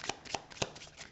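A deck of oracle cards being shuffled by hand in brief soft riffling bursts, a few quick close flutters, no talking.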